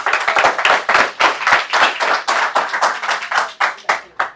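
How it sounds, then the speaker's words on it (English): An audience at an entrepreneurship session applauds, with dense, steady clapping that stays close and loud for the whole stretch and no talk over it. "Can we have a round of applause for Saurabh?"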